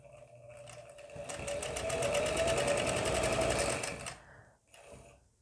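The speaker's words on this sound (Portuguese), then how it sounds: "Aqui nós vamos fazer uma costura circular." Sewing machine stitching a circular seam in fabric for a roll-shaped cushion, running in a steady fast whir for about three seconds, starting and stopping, close and loud, with no talk.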